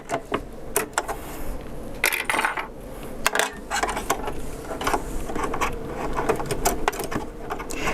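Sewing machine fitted with a lace joining foot stitching elastic, a fairly quiet run of irregular mechanical clicks and rattling bursts.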